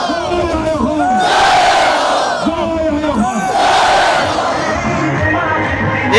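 A large crowd at a hunger strike protest in Chandmari sings together in loud, sustained group voices, with clapping, rising and falling in two broad surges throughout.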